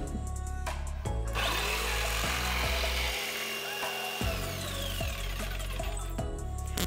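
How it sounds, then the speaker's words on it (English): A jigsaw cuts through a hollow core door, its blade buzzing loudly and steadily with a brief drop in pitch midway, then resuming; no talk. "I had to use a drill on the corners just to make it so I could get my jigsaw blade in there."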